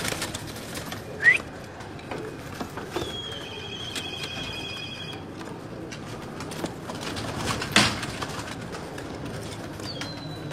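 High-flying pigeons kept by a fancier in Karachi give faint, scattered coos and calls over a low background hum, with two brief louder bursts like wing flaps and a thin steady whistling tone in between.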